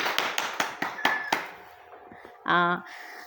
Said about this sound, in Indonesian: Ya, tepuk tangan dulu untuk Agus Pahendeka